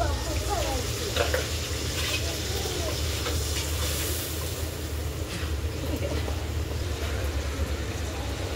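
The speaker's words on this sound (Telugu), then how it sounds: "చికెన్ కర్రీ కూడా నూనె వేడైంది, ఉల్లిపాయలు వేసుకున్నా" Onions and slit green chilies sizzle in hot oil for a village-style chicken curry, a steady close frying hiss running throughout with faint clinks of stirring.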